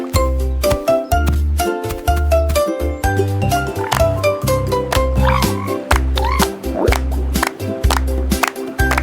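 Cartoon-style frog croaks pop out over a loud, bouncy children's nursery song with steady bass and bright melody, the croaks brief and mixed in with the music.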